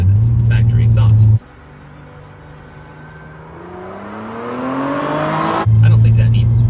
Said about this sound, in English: it makes an amazing noise with its factory exhaust